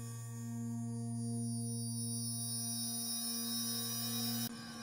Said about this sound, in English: Just a random synclavier sound.